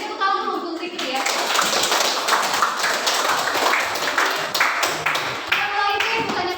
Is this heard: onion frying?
no